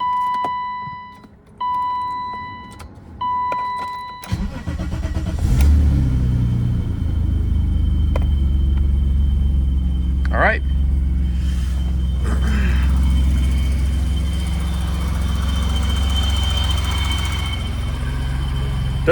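A BMW M30 inline-six, freshly fitted with a new valve cover gasket, cranks over with a few short beeps beforehand, then settles into a steady, close, rumbling idle that carries on to the end, with a brief word spoken at the start.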